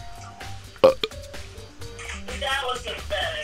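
Someone lets out a weak, stifled burp that stays in the throat, giving one short, muffled gulp. Game music plays underneath.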